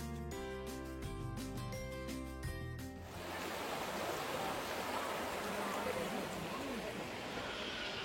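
Cold river water flows steadily through a shallow stream bed, a continuous broadband rush that follows a few seconds of tonal music at the start.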